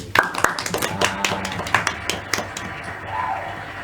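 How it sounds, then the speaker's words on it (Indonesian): Brief scattered clapping from a small classroom group during a history-teaching microteaching session, a handful of sharp claps over the first few seconds, then fading into room murmur. "Tepuk tangan buat Toti."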